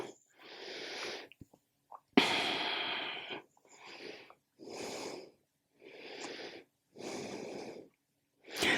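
Deep yoga breaths, in and out through the nose, recur in a slow rhythm of about seven breathy bursts separated by short pauses, close and clear with no talk.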